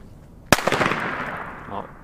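A Lesli Chilli Pepper firecracker from a spicy family assortment bursts once with a sharp, loud bang, followed by a decaying outdoor rumble and echo; people are nearby but no words are spoken during the blast.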